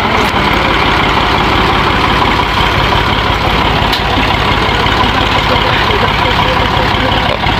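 A tractor engine runs nearby with a steady low idling rumble that never lets up, while people talk over it.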